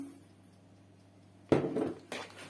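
A spoon clinks and scrapes against a bowl while sugar is stirred into eggs, with two short bursts of clattering after a quiet pause.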